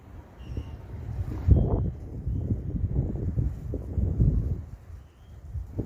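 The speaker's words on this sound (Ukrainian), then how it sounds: "Тільки вітер на дворі." Steady low wind rushes and buffets outdoors under a clear sky with fast-moving clouds, rising and falling in gusts, with no one talking.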